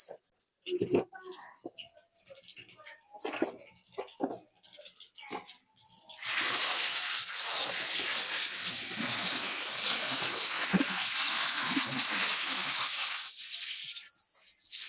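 Onions drop into hot oil for a mutton and potato curry: a person talks briefly, then a loud, sudden sizzling hiss takes over and holds steady, close and continuous.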